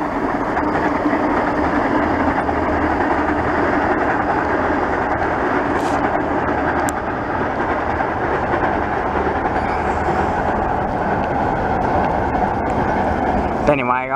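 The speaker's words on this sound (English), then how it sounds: "there's another train crossing the bridge" A Waratah passenger train crossing the Meadowbank rail bridge, heard from the riverside John Whitton Reserve: a loud, continuous rumble and clatter of wheels on the bridge that holds steady throughout, with a few sharp squeals near the end.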